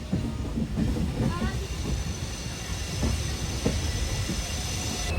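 A locomotive-hauled train rolls through Lumding Junction, a steady loud rumble of wheels on rails with faint clicks and brief squeals, heard up close from on board the Vivek Express.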